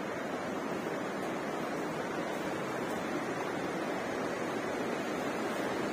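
Hot spring water pours and rushes continuously at Manikaran Sahib gurudwara in Himachal Pradesh, a steady, dense, loud hiss with no pauses or distinct splashes and no voices.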